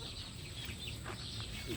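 A Sanino White chicken, a skittish pure-white bird, clucks softly and intermittently against a steady background hum, with brief faint calls scattered through.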